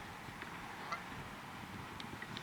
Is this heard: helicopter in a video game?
no